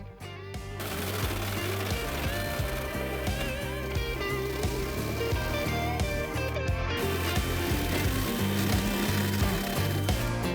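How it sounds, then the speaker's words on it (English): A hole saw cuts an opening in the body of a 1965-1966 Ford Mustang, giving a loud, continuous grinding and rattling whine that holds steady for the whole stretch without talk. "What we're gonna try to do though is use a hole saw to open them up a little bit"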